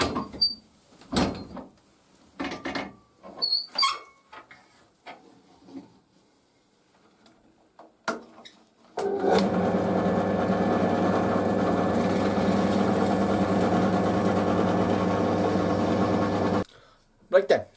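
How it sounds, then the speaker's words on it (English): A few clicks and handling knocks, then a power drill whines steadily for about eight seconds, boring holes through the handle of a full tang knife, close and loud before stopping abruptly. "Now I'm going to drill them through."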